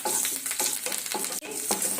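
Tempering sizzling in hot oil in a pan for a carrot and coriander chutney, with curry leaves going in, a steady loud frying hiss broken by repeated stirring scrapes and no talk.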